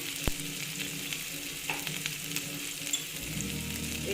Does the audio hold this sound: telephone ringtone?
no